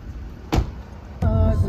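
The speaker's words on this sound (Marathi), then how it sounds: "एक गाडी गेली पुढे." A car passes nearby on a road during a Konkan trip, giving two brief swells of engine and tyre noise close to the listener, with a quieter rumble between them.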